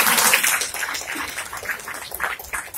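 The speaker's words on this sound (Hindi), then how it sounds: "चलिए 6 के लिए एक जोरदार ताली।" An indoor audience at a motivational speech claps together in a sustained burst of applause, a dense patter of many hands that stays fairly loud throughout and tapers slightly toward the end.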